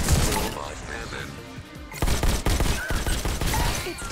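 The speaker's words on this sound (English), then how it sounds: "Robot cannon." A robot cannon fires in a video game as a rapid barrage of sharp, loud bursts, with a quieter stretch before dense volleys resume. A voice talks over parts of it.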